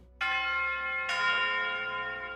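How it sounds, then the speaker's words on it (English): Orchestral chimes in a heroic theme song ring out with two bright metallic strikes about a second apart, each leaving a long, shimmering, slowly fading resonance; no voices. "that's going to be the chimes"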